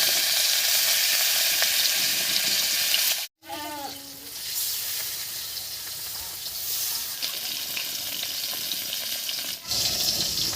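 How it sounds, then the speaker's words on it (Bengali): Rohu fish pieces fry in hot mustard oil in a wok, giving a loud steady sizzle with a brief break and a short tonal clatter near the start before the hiss resumes evenly. "এবার কড়াইতে সর্ষের তেল দিয়ে মাছটা ভেজে নেবো"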